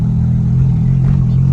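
A car's exhaust drones steadily while driving on a smooth blacktop road, a loud continuous low rumble with slight swells of revving, no talking over it.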